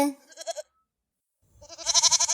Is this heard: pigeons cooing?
no